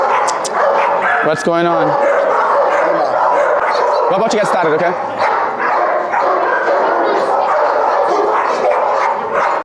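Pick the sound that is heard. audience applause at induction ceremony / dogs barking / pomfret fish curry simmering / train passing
dogs barking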